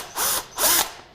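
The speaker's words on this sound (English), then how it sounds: "I just want to drill a little hole just in the middle, just to give the screw something to attach onto" Electric drill boring a small pilot hole for a screw, two short loud whirring bursts with a brief pause between, no voices.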